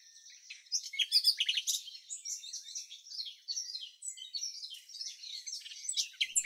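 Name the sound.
common nightingale song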